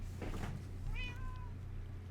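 A cat meows once in Minecraft, a clear rising-then-falling tone in the middle, heard over a low background hum with faint earlier rustles.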